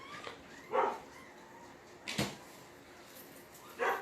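Puppies cry in three short, high whimpering bursts spaced a second or so apart, close by in an otherwise quiet room.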